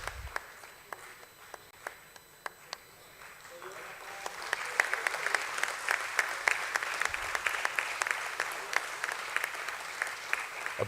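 Audience applause at a stock exchange listing ceremony for Jio Financial Services at BSE, building from scattered claps into sustained, dense clapping across the room, with a voice faintly under it.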